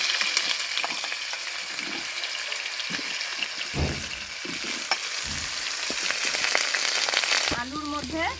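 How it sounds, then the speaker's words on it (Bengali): Potatoes frying in hot oil in a wok give a steady close sizzle with scattered clinks and stirring scrapes, ending with a short burst of voices or bird-like chirps. "এবার আলুগুলো ভেজে নেব।"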